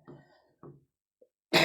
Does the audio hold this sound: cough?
yes